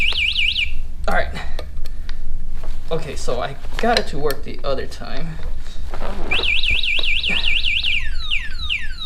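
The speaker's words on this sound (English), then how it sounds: "Oh shoot, that's the alarm." An electronic alarm beeps in a rapid warbling pattern, sounding loudly at the start and again near the end, while someone talks between the bursts amid clatter during scooter assembly.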